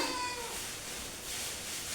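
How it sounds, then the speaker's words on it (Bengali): Stray outdoor cats give faint, short meows in a quiet indoor setting, with a couple of thin calls near the start and soft background noise. "এগুলো সব হচ্ছে বাইরের বিড়াল"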